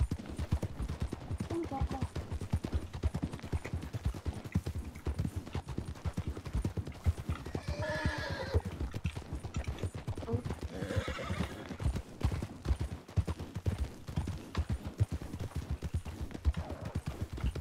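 Galloping horse in a video game pounds out a fast, steady clip-clop of hooves that runs throughout, with loud neighs and whinnies breaking through in the middle; someone talks quietly underneath.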